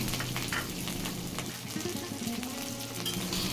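Chopped onions and three green chillies sizzle steadily in hot oil after cumin, a soft continuous frying crackle heard close and alone.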